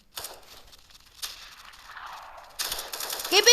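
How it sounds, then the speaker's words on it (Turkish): Bursts of rapid machine-gun fire from a shooting video game, loud and close, with a short gap before a dense final volley and no talking. "Arkadaşlar silah taramalı gibi bir şey yani."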